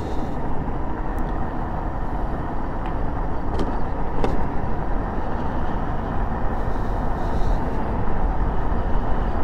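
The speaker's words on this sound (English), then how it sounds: "oh, there's a car behind me too" A car rolling along close behind a cyclist on a town street at night, a steady broadband road and engine rumble holding level throughout with no talk.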